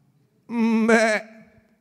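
A single drawn-out, wavering goat bleat, loud and close, lasting under a second and apparently a human voice imitating the animal.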